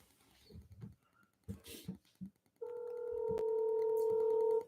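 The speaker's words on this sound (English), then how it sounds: "Y'all hear the phone ringing?" A telephone rings with a loud, sustained electronic tone that starts abruptly and holds steady for about two seconds, following a stretch of quiet, scattered talk and rustling.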